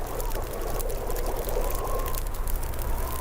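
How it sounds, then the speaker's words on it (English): Water comes to a boil over a fire in The Long Dark, a steady bubbling, churning wash with low rumbling underneath, moderately loud and continuous with no talk over it. "Gonna boil up the water."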